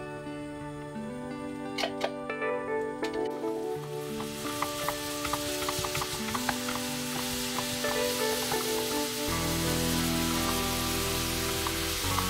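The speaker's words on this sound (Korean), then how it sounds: "식용유에 양파, 마늘을 볶아요." Onion and garlic sauté in cooking oil in a pan, a steady close sizzle with light stirring clicks, the frying growing louder and denser toward the end, with no talking.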